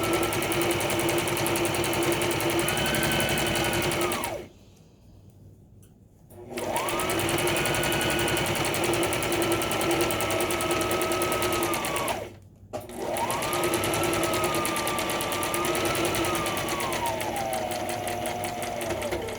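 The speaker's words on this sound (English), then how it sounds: "now we're gonna sew from here to the end, back stitching at the end" A sewing machine stitching fabric ties onto the body of a face mask runs loud and close in three long fast bursts, separated by short pauses, its motor whine steady and rising slightly near the end of each run.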